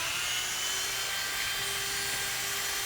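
A Dremel rotary tool fitted with a small burnishing tip scrubbs metal on a K-Line passenger car lighting contact, giving a steady, close, high-pitched whine that holds without a break.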